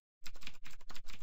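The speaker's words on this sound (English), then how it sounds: "typing in msbuild" Computer keyboard typing at a desk during programming work, a quick close burst of clattering keystrokes in an even rhythm, heard alone with no voices.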